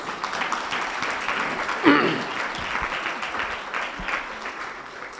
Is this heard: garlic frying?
no